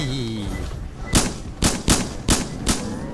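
Rapid semi-automatic blasts from an AA-12 shotgun in a Roblox game, five loud sharp shots in quick uneven succession, each with a short burst of noise, following a brief lead-in of game sound.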